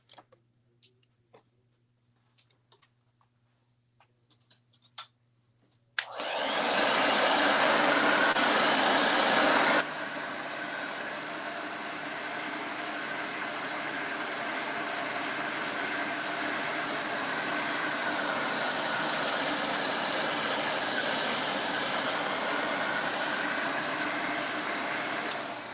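A dryer or heat gun blows to dry ink on decorated Easter eggs, starting abruptly after a few quiet seconds with faint taps, then roaring loudly and steadily, dropping slightly in level but running continuously to the end.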